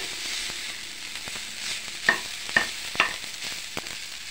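Margarine sizzles in a frying pan while fried rice cooks, a steady close hiss broken by a few sharp scraping stirs of the spatula.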